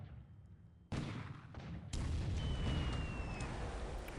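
Coastal gun batteries firing in the War in the Pacific strategy game: a few sharp booming reports, the first near 0.9 s and a louder one near 1.9 s, each followed by a sustained rumbling roar with no speech.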